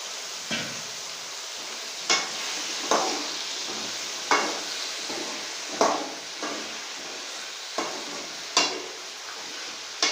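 Tomatoes, brinjal, raw mango and drumstick sauté in hot oil for vegetable sambar. A steady sizzle runs throughout, broken every second or two by a loud spoon scrape against the pan, with no talking.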